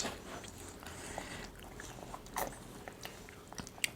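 Crispy fried shrimp snack being bitten and chewed up close, with sharp crunches scattered over faint background noise and no talk.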